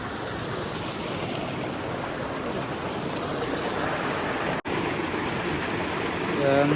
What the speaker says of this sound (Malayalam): എന്താ വെള്ളം ഒഴുകുന്നു.